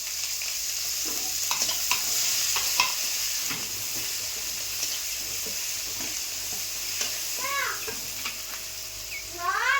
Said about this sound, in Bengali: এখন পেঁয়াজ কুচি লঙ্কা কুচি দিয়ে দেবো।